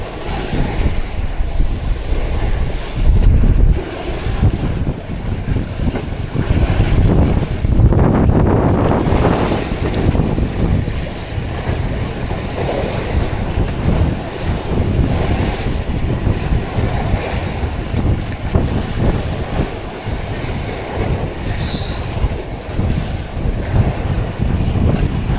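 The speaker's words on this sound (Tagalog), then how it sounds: "Laki ng alon, mga amigo." Big ocean waves around a tuna fishing boat on the Pacific, heavy surf rushing and surging continuously with strong wind buffeting the microphone, no voices.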